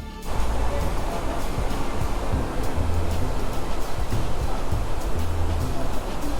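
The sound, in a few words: water flowing through a narrow stream at Nangartas waterfall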